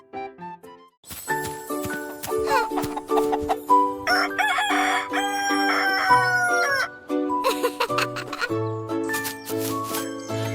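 A cartoon rooster crows in a children's farm-themed alphabet song, over bright music with jingling accents and a clucking chicken.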